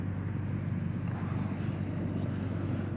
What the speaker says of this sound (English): We just had two military Apache helicopters fly right over our house.